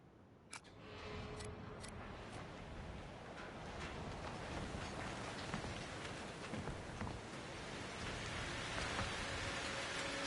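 Steady rain in the video game Outlast II hisses and patters throughout, with a few sharp clicks near the start, growing slightly denser over time, no voices.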